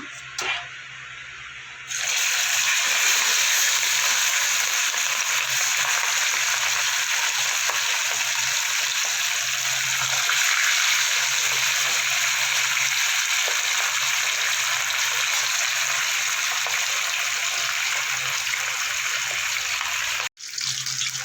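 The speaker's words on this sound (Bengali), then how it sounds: "মাছগুলো আমি একবার ভেজে নিয়েছি আর একবার ভেজে নিতে হবে একসাথে ভাজা যাবে না" Rohu fish pieces fry in hot oil in a Bengali kitchen, a loud, steady, close crackling sizzle that holds for about twenty seconds, with no talking.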